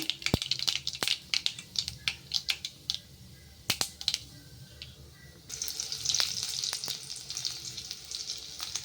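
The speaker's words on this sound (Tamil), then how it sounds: "கடுகு நல்லா பொரிஞ்சு வருதுங்க" Mustard seeds popping in a little hot coconut oil, sharp irregular crackles and snaps over a soft sizzle, the spluttering turning to a louder steady hiss near the end.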